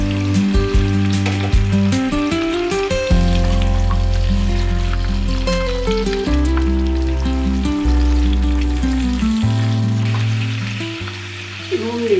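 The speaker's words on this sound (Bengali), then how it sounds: "তেজপাতা, টমেটো আর মটরশুঁটি দিয়ে দিলাম।" Bay leaf, tomato and peas fry in a pan with a loud, steady sizzle close by, broken by occasional stirring scrapes and no talk.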